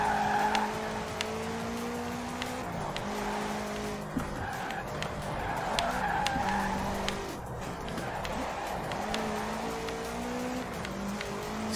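Car engine droning with shifting pitch and repeated tire skids during free-roam driving in Forza Horizon 4, continuous and loud throughout, with a voice talking faintly underneath.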